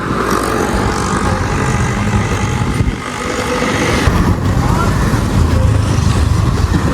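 Street traffic on a busy Sri Lankan shopping street with a Toyota car passing, a steady loud engine rumble and road noise close by, without any clear talk.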